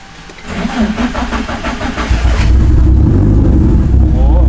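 A drift car's engine cranks and catches, then settles into a loud, rumbling idle close by.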